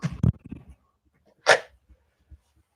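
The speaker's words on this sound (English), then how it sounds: "Oh, you heard the dog? That's a big dog." A big dog gives a couple of short, sharp barks nearby, with a louder single bark standing out from otherwise quiet surroundings.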